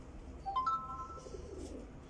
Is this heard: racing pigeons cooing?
yes